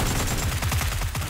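Rapid burst of gunfire in PUBG, a close, loud string of about ten evenly spaced shots within a second and a half.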